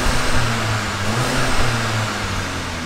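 A 2021 Volkswagen Jetta GLI 2.0T engine idles and revs through a dual chrome-tip exhaust with a deep, throaty note, rising and settling briefly, close by with no talking.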